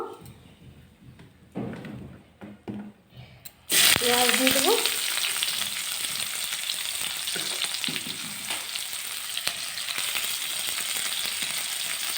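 A bay leaf dropped into hot oil in a kadai after fish has been fried, bursting into a loud, close, sustained crackling sizzle after a quieter opening with some clatter.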